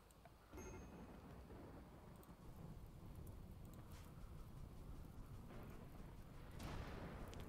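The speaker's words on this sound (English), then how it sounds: "Oh, of course it's a dry thunderstorm." Rumbling thunder from a dry thunderstorm in the colony-building game Rimworld, a steady low roar with rain-like hiss, swelling louder near the end, with no voices.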